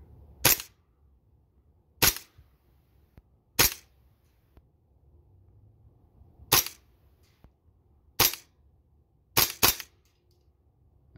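A King Arms TWS9 airsoft gas blowback rifle, short-stroked and firing tracers, is fired semi-automatically. About seven sharp, loud, close cracks come at irregular intervals, with two in quick succession near the end, over quiet background.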